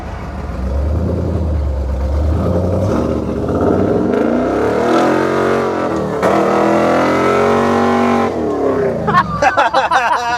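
Fast car with coilovers and four-link suspension accelerating hard on a wet road, a loud close engine roar climbing in pitch through the gears, with voices in the cabin toward the end.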